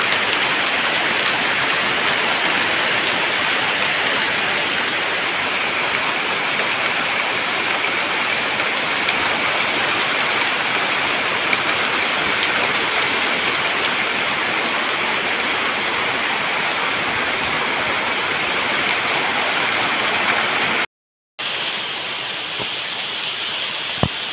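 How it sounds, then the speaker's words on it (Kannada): Steady, dense rain pours down continuously with a broad hissing wash, briefly cutting out near the end before resuming. "ಮಳೆ ಬರ್ತಾ ಉಂಟು"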